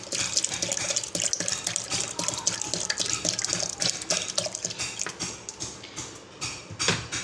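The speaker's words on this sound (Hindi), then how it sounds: "अब इसमें डालेंगे ठंडा पानी।" Cold water pours steadily into a juicer jar holding cream for homemade butter, a continuous bright splashing and gushing that stays loud throughout, with no talk.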